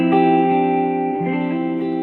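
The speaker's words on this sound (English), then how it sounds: "Right now I have some like reverb and delay on as well." An electric guitar sounds a sustained neo soul chord through reverb and delay effects, ringing loud and steady with a brief shift midway before settling back into the lush held chord.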